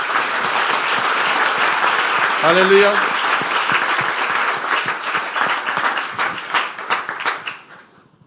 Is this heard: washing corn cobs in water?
no